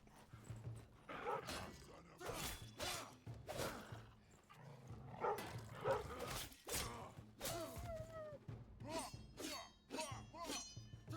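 Dog in a video game barking in repeated short bursts, some louder and closer, mixed with growls and game noise, while someone talks between and over the barks.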